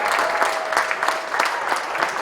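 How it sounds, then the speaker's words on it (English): Crowd at a polo match in The Villages clapping for both teams, a steady dense patter of many hands, continuous and fairly close. "Let's give both teams another round of applause."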